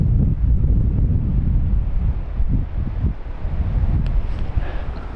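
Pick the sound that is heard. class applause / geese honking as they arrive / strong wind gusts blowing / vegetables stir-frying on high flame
strong wind gusts blowing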